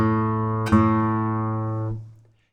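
The open fifth string, A, of a guitar is plucked and rings with a full sustained tone. It is struck again partway through and then fades out. It sounds close and clean, with no voices.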